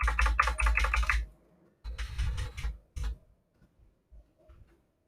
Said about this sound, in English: So we can just still continue typing